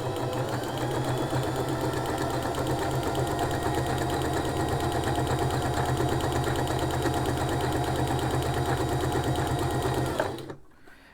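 A sewing machine runs continuously at an even pace while stitching a backstitch on a fold, a steady close whirring patter that stops abruptly near the end.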